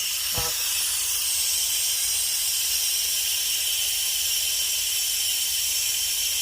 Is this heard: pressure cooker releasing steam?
yes